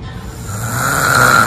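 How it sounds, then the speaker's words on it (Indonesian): A sleeping person snores in a single long, rasping inhale that grows steadily louder, close by. "Oh, ngorok deh"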